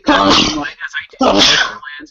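Two loud, sharp sneezes burst out close to the microphone about a second apart, with voiced sounds around them.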